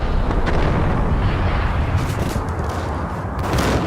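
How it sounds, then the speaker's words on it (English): Loud, dense bursts of shotgun fire and booming impacts from the Max Payne video game fill the clip continuously, harsh and close with no pauses and no talking. "It's a long way away to shoot with a shotgun."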